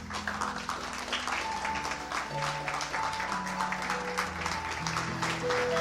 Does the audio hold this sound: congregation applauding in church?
yes